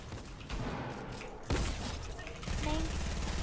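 Bursts of rapid gunfire and sharp shots in a first-person shooter video game, over a dense, noisy game soundscape, loud and continuous.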